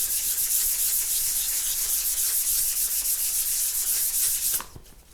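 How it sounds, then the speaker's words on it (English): Close, steady hand-rubbing of a guitar finish on an ES-335-style build with 1200 grit abrasive, a continuous dry scratchy hiss that stops abruptly near the end. "You're taking so little off at this point that you're not going to rub any hollows or anything into it."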